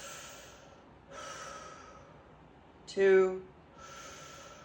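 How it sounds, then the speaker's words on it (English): Deliberate breaths drawn in through the mouth during a guided breathing exercise, each one an audible airy rush. A short spoken count interrupts them midway. "Now we're going to take 3 more breaths in the mouth"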